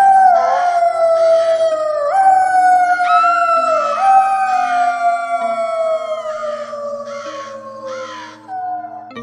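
Jackals howl for a long stretch in a spooky animated horror tale set in a foggy village, with several drawn-out, sliding wails overlapping and falling in pitch, loud and sustained, and faint rhythmic pulses behind them.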